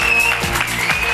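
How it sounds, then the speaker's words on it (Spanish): Studio audience applause on a Spanish football radio-style show, a dense, steady wash of clapping filling the whole moment at close range with no talk over it. "un aplauso para Nacho Gómez Hermosura"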